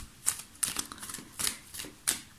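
Tarot cards being shuffled by hand for a reading, several quick crisp riffling bursts in an uneven rhythm, close and fairly soft in a quiet room.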